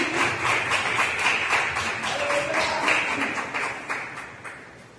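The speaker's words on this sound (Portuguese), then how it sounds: "As palmas louvam ao Senhor." Congregation clapping in praise during a church celebration service, a steady mid-level wash of many hands with a rhythmic pulse, fading slightly toward the end.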